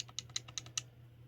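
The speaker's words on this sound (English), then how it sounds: "If you can hear my controller clicking" Game controller buttons being pressed give a quick run of five or six light, sharp plastic clicks, close and evenly spaced over a faint low hum.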